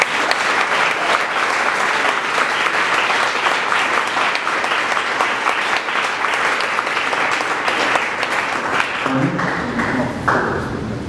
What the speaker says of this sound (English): So a big round of applause for all our inductees,